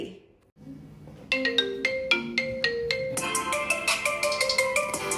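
A Bluetooth smartwatch plays its incoming-call ringtone, a bright repeating chime melody of evenly spaced notes that grows fuller after a brief hush at the start.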